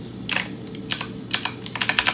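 Close typing on a computer keyboard, with irregular clusters of crisp key clicks that speed up toward the end over a faint steady hum.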